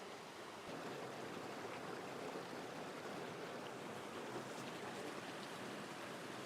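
A waterfall and rushing stream roar steadily in Devil's Glen, Wicklow, Ireland, a dense, continuous wash of water with no pauses.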